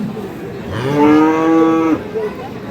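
A dairy cow at the Ambari cattle market in Dinajpur, Bangladesh, lets out one long, loud moo that swells and then stops abruptly, with faint background murmur around it.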